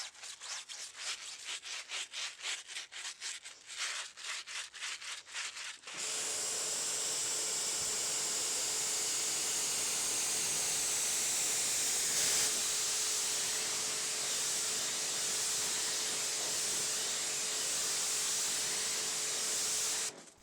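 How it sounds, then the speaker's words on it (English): Stiff tyre brush scrubbing the tyres of a Vauxhall Grandland X during a chemical decontamination wash: rhythmic short scrub strokes at first, then a steady, loud, continuous hissing rub that carries on for the rest of the clip. "So I gave them a good scrub with my Interdetailing tyre brush."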